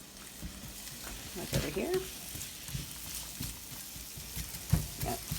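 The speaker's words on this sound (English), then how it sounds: "Okay, my veggies are cooking." Chopped vegetables for Philly cheesesteak egg rolls fry in a hot pan with a steady, close sizzle and occasional stirring, while a voice speaks briefly over the cooking.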